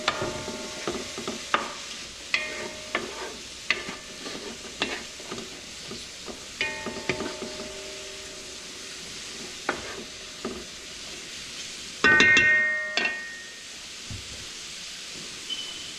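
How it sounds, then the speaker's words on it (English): Ox tail for Cuban rabo encendido being stirred around a pan of hot oil over a fire, steady sizzling with repeated scraping strokes of the utensil and a louder burst of frying near the end. "Gonna stir it around a little bit."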